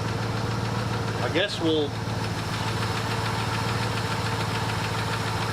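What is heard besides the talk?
old car engine idling, 1967 Buick or 1976 Ford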